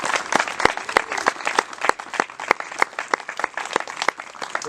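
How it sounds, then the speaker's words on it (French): Scattered hand claps from a small audience at a mural unveiling with students, sparse and uneven rather than a full roaring ovation, continuing steadily throughout. "On va les applaudir encore une fois parce qu'ils ont travaillé fort"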